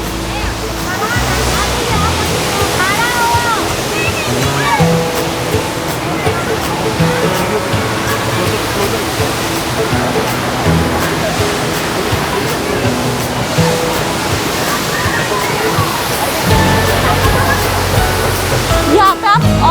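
Elephanta Falls waterfall in Meghalaya, a loud steady roar of rushing water heard close and continuous throughout, with a voice speaking over it.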